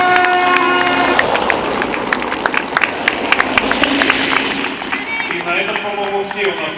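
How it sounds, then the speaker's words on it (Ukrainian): A crowd claps and cheers at the Leopolis Grand Prix classic car festival in Lviv, sustained applause over a steady hum of voices and background noise. "Аплодисменты."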